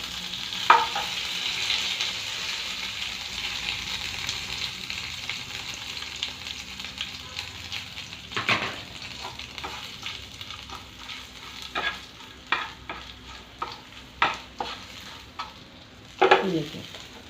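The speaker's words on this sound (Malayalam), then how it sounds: "ഗ്യാസ് ഓഫ് ചെയ്തിട്ട് ലേശം മുളക് പൊടി ഇട്ട് കൊടുക്കാം" Chilli powder stirred into a hot pan with the gas switched off, a soft continuous sizzle broken by scraping stirring strokes that grow more frequent toward the end.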